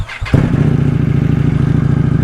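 A 2025 Indian Scout Bobber's engine catches and revs sharply, then settles into a loud, close, throbbing idle with a steady pulsing rhythm.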